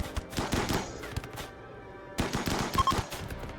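Bursts of gunfire crackle in RimWorld as shield-belt colonists hold a defensive line. Rapid clustered shots come in two loud volleys separated by a short lull.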